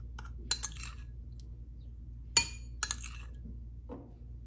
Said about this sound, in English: Mix together these dry ingredients.